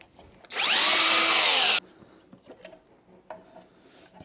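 Power drill unscrewing screws from a control board cover on a Nosfet Aero electric scooter, one loud sustained whine lasting about a second that rises in pitch, followed by faint handling clicks and rustles.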